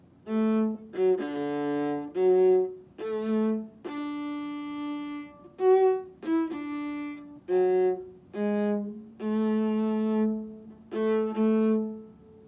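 A viola plays a slow melody of separate sustained notes, the first line of the Star Spangled Banner, clear and close, with no voices.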